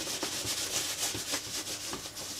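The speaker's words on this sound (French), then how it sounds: "on frotte bien toutes les parties de la chaussure de façon à enlever les surcouches" A cloth rubs over a smooth leather boot in quick, repeated strokes, a soft rhythmic swishing that stays close and fairly quiet with no voices.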